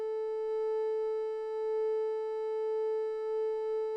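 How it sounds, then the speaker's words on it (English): Steady, pure-toned triangle wave from the oscillator of a Make Noise semi-modular synth, held at one even pitch for about four seconds with no talking. "And that's the sound of a triangle wave."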